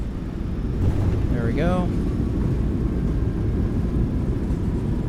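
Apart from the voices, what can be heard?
PMDG 737 landing rollout with reversers, flight simulator video game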